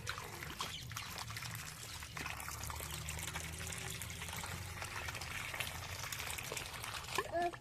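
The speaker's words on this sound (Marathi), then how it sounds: "किती घाण पाणी निघायला लागले" Dirty, silt-laden water drains out steadily, a continuous pouring and trickling wash that runs the whole time, with talk over it.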